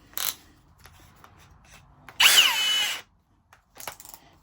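A Milwaukee 3697-22 cordless hammer drill gives a few short clicks and whirs while switching gears, then one loud burst of about a second, followed by a couple of brief mechanical clicks.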